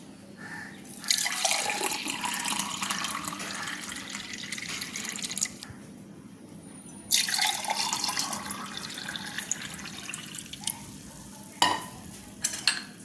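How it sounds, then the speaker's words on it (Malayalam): Carrot and gooseberry juice pours steadily into a glass in two long streams separated by a brief pause, ending with a few light clinks and drips. "നമുക്ക് ഇതൊരു ഗ്ലാസ്സിലേക്ക് ഒഴിക്കാം"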